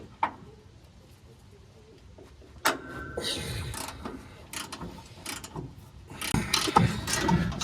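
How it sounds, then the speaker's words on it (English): Pneumatic air ratchet in an engine workshop, with a sharp burst of ratcheting and mechanical clicking after a quiet start, then busier rattling and clatter toward the end. "It's called an air ratchet."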